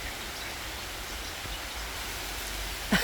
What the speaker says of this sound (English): It's bucketing down now.